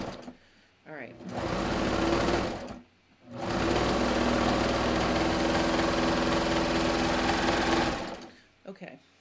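A serger sewing machine stitches a bathrobe in two loud, steady whirring runs, a short burst followed by a longer one after a brief pause, close up, with light handling noises at the start and end.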